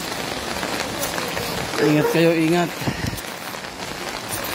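Heavy rain pours steadily in a constant hiss while a person briefly speaks over it.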